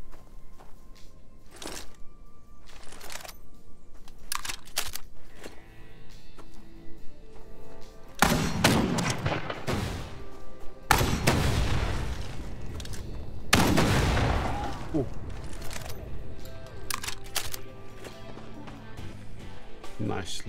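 Shotgun blasts in the survival game The Front during an assault on a First Empire checkpoint: several heavy, booming shots spaced seconds apart, loud and near, over a steady bed of game ambience and scattered lighter noises.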